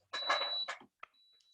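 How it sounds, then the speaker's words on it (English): Clothes iron sounding a short alert during a home sewing session, a few quiet, high electronic beeps heard alone in a near-silent room. "my iron is beeping at me to let me know I've had it on for too long"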